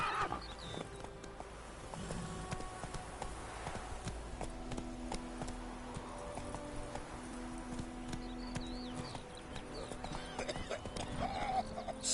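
Hoofbeats of a horse galloping in The Witcher 3 clatter in a steady rhythm at moderate loudness, running continuously under layered game ambience and music.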